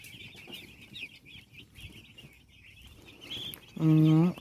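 Four-day-old broiler chicks on a poultry farm give a continuous stream of high peeping calls at close range in the evening, and a person's voice briefly cuts in loudly near the end.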